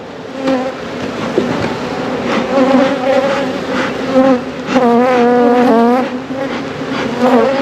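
Dense, loud buzzing of a honeybee swarm clustered around a hive box, a steady layered drone of many wings with rising and falling pitch swells close by, no talking.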